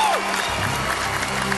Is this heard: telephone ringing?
no